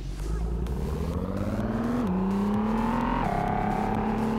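A Mercedes G-Class engine from a City Car Driving game mod revs steadily and loudly, pitch climbing in stages with gear-like shifts, a continuous droning growl throughout.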